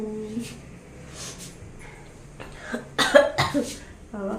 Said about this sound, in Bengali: কাশিটা অল্প অল্প লাগছে